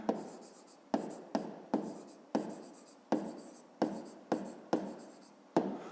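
A pen writes measurements by hand on paper while working a box-width problem, close scratchy strokes repeating in about a dozen short, even bursts, each starting with a soft tap, with no talking.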